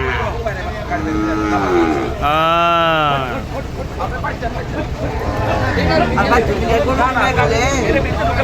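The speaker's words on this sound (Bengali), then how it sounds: "এটা তো বাছুর গরু ষাঁড় গরু" Cattle, calves and bulls, at the Jaypara cattle market in Dhaka district: several loud, drawn-out moos close by, one long low call in the middle, over steady crowd babble and people talking.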